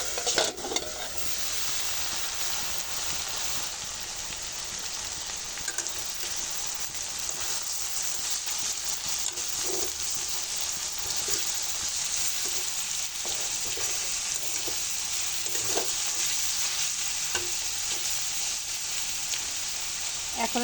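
Sliced bitter gourd sizzles steadily in an uncovered frying pan while a spatula keeps stirring it, scraping now and then above the constant hiss.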